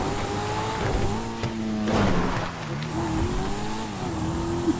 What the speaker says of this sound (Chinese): 哎呀，撞车啊！